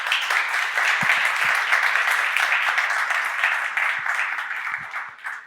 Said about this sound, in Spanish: Muchas gracias. Un aplauso a Rodrigo.